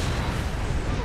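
A loud, dense explosion blast in the mecha shooter Gundam Evolution, a continuous booming rumble filling the whole moment without pause.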